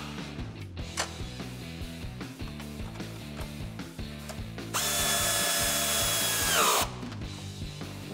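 A power tool with a 10mm socket tightens a pinch weld bracket bolt while installing side step bars on a Jeep Wrangler JL, a short loud whirring burst over rhythmic background music.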